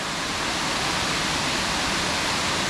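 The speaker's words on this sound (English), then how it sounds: "there's like waterfalls that are a little gradually smaller ones too." Rutledge Falls in Tullahoma, Tennessee, a waterfall with smaller cascades around it, pours in a constant, full hiss of falling water heard up close, steady throughout.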